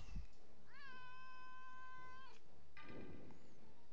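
A cat meows up close: one long, drawn-out meow followed by a shorter one a moment later, in a quiet room.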